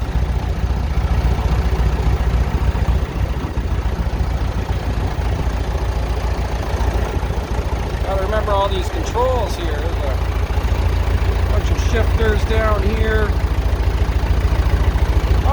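A 1969 Massey Ferguson tractor engine chugs and rumbles steadily throughout, with someone talking briefly over it partway through.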